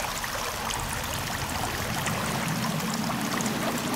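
Water flows steadily into a beach cave in Sons of the Forest, a constant broadband rushing and trickling wash at moderate volume, heard alone without talk.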